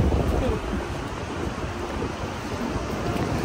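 Sea waves washing onto a beach, a broad steady roar mixed with wind buffeting the microphone, fairly loud and continuous.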